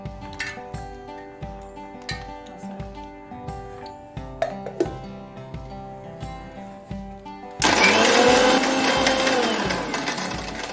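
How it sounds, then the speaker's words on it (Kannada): A mixer grinder blends masala and roasted cashews into a smooth paste, its loud, steady whirring roar cutting in suddenly after a stretch of tinkling music and running for the final few seconds. "ಮಿಕ್ಸಿನಲ್ಲಿ ಇದಕ್ಕೆ ಸ್ಮೂತು ಪೇಸ್ಟ್ ಮಾಡ್ಕೋಬೇಕು. ಇದಕ್ಕೆ ನಾನು ಸ್ವಲ್ಪ ಹುರಿದಿರೋ ಗೋಡಂಬಿ ಕೂಡ ಹಾಕೋತಾ ಇದ್ದೀನಿ."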